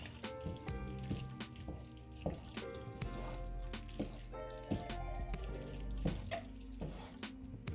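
A pot of American goulash with ground meat and elbow macaroni is stirred, giving wet squishing and dripping sounds in uneven bursts, close and moderately quiet, over a steady tonal musical background.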